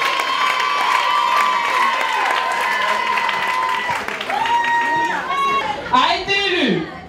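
At a Miss Ronde Réunion 2013 pageant, a crowd claps and cheers for a candidate while an announcer's amplified voice and shouts ring over the applause, loud and close.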